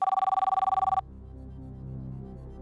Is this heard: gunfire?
no